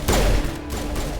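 A squad mate's rapid gunfire in the Mass Effect video game rattles off in a quick burst, loud and close, with game sound layered over it and no speech.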